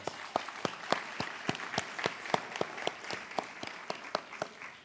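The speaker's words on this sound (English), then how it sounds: "Let's give a round of applause" Applause from the audience at a Charlotte Housing Authority scholarship event, many hands clapping in a dense, fairly quiet patter that continues without a break.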